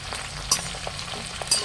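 Curry leaves frying in hot tempering oil for crispy roasted poha chivda, a steady close sizzle with soft stirring scrapes and two sharper crackling bursts.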